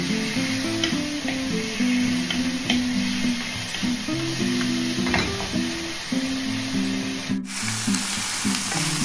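Chicken wings sizzle and fry steadily in a pan for kinagmatisang chicken, a close, continuous crackle with occasional stirring scrapes and no talking.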